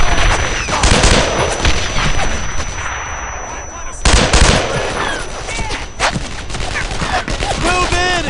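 Sustained gunfire and bursts of automatic weapon fire in Brothers in Arms 2, a World War II shooter game, loud and dense throughout, with a sharp blast near the middle and faint shouted voices mixed in.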